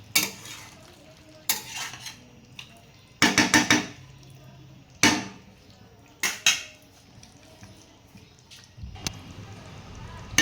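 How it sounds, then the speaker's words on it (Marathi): Chicken masala curry is stirred in a pan with a spoon, producing several loud scraping bursts separated by pauses, a faint sizzle running underneath, and brief speech in the background. "एकदा भाजी व्यवस्थित हलवून घ्यायची आहे"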